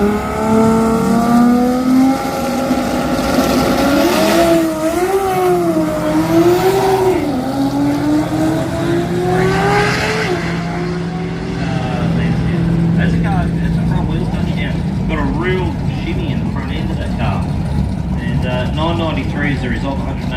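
Drag race car with a 2J engine launching hard with tyres spinning at a Garrett Brisbane Jamboree drag event, loud revving and wavering engine note fading into distance under an announcer's commentary.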